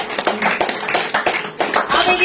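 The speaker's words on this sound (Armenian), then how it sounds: "Եկեք ծափահարենք բոլորին։" Audience clapping at a book presentation for author Svetlana Kochinyan, a brief patter of hands in a room that builds and thins, with voices mixed in.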